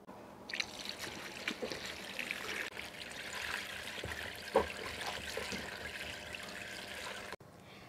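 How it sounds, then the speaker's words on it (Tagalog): Banana pith is washed in water, with steady trickling and sloshing, small splashes and a few handling bumps continuing throughout at close range. "Next, ay hugasan natin ito ng mga 2 hanggang 3 beses."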